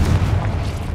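A Confringo fire spell bursts in Hogwarts Legacy, giving a dense, sustained rumbling boom that fills the whole second with a heavy low-end roar and no talk over it.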